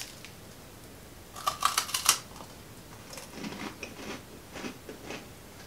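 An organic, non-GMO snack packet being torn open up close, with a sharp burst of crinkling plastic followed by a few softer rustles and handling sounds, with no talking.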